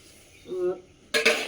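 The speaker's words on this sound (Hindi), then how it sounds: "मांज लिया बर्तन" Steel dishes and pots clatter and clink as they are scrubbed at a farm home, a soft scraping stretch followed by two bright metallic knocks, close by and fairly faint.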